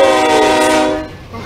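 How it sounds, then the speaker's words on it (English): Horn of an AC44CW diesel locomotive sounding as it approaches down the line in the Roblox game, a loud, close, sustained chord that fades toward the end. "Oh, there's an AC-44C on, there's an AC, 44CW coming down the line, Edwin."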